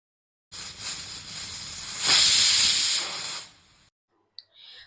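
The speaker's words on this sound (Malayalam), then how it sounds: "നിങ്ങളുടെ കുക്കറിൻ്റെ അനുസരിച്ച് വിസിലടിപ്പിക്കുക കേട്ടോ" A pressure cooker vents steam in a loud, close hiss that builds and peaks in the middle, then cuts off abruptly and is followed by a short spurt.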